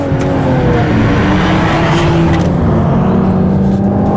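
A 2021 BMW 4 Series Coupe engine drones loudly and close while driving, with a steady rising and falling tone through the gears and constant road roar.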